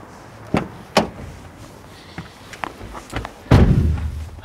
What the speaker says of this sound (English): let's shut that award-winning side-sliding door and get into the award-winning cabin